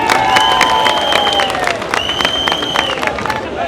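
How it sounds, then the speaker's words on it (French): An outdoor crowd at a peace march event in Kindia applauds and cheers, dense clapping and voices sustained throughout while a loud sustained tone rings over it. "que je vous prie d'applaudir"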